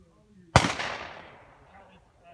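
A single sharp gunshot on a competitive shooting stage, loud and close with a sudden crack and a long decaying echo, no talk over it.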